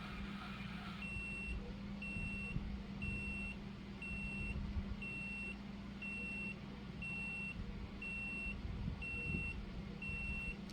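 A device used in resin work beeps in a regular series of short, evenly spaced high tones, fairly faint over a low background hum, with no talking.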